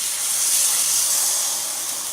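A grilled cheese sandwich is set into a hot frying pan on a barbecue and sizzles, a close, steady hiss that holds for a couple of seconds without pause.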